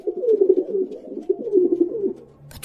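A pigeon coos close by in soft, repeated throaty phrases, two rolling bursts with a brief pause between, clear and alone against a quiet background.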